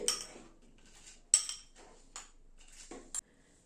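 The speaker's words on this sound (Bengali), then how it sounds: "এখানে একটা গ্রাইন্ডিং জার নিলাম, ডালটা দিয়ে দিচ্ছি গ্রাইন্ডিং জারে" Red lentils going into a grinder jar make a few sharp clinks and light rattling knocks, spaced out and close by, with no talk.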